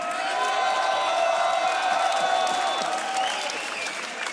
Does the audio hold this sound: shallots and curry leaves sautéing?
no